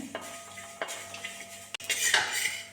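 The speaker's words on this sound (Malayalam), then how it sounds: "ഉരുളി ചൂടായ സമയത്ത് നമുക്ക് ഈ ലേശം ഉലുവ വറുത്തെടുക്കാം" Dry roasting fenugreek seeds in a heated metal uruli pan: a spoon scrapes and stirs, with light rattling and clinks, growing busier toward the end.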